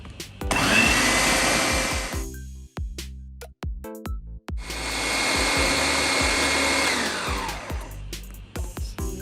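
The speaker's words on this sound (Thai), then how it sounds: "จากนั้นนะคะก็ปั่นต่อเลยค่ะ" A blender whirs loudly while mixing homemade healthy Nutella with a pinch of salt and vanilla extract. It runs in two long bursts separated by brief stops and restarts.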